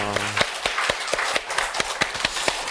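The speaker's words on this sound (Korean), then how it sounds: "찬양 받으신 하나님께 감사 영광 박수 올려드리겠습니다." Church congregation clapping together after a hymn of praise, a run of sharp, distinct claps with irregular rhythm, fairly close and moderately loud, with no voices over them.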